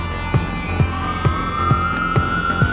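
An emergency vehicle siren wails on a New York street, its tone sliding steadily upward while a regular low thumping pulses beneath it at about two beats per second, fairly loud and without speech.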